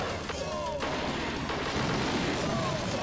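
Booming, crackling boss explosion from a 1988 arcade video game, a dense continuous wash of blasts and noisy rumble with brief whistling tones, loud throughout without pause.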